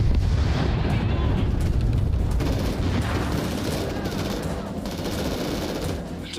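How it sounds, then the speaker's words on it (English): Airstrike in the war game Crossfire: Legion, a dense, continuous rumble of heavy blasts and rattling gunfire, loud and close, slowly easing off toward the end. "Oh, airstrike!"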